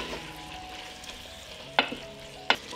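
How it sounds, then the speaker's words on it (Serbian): Peppers, tomato and garlic fry in a pot with a low, quiet sizzle, broken by two sharp scraping clatters of stirring about a second apart. "Sve ću to promešati i propržiti zajedno 1 minut."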